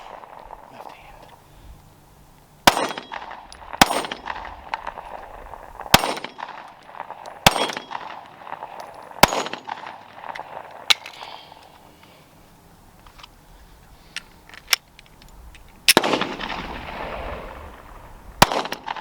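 A Glock 43X MOS pistol fired repeatedly outdoors, sharp loud single cracks spaced a second or two apart with echoing tails, between quieter stretches.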